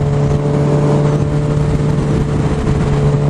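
Loud, steady engine drone with a strong constant hum, heard close and continuous with no talk, from a Honda CBR1000RR motorcycle.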